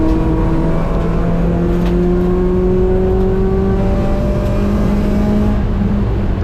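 A race car accelerates on throttle around the GingerMan track with a loud, sustained engine drone whose pitch climbs steadily, heard close up as from on board.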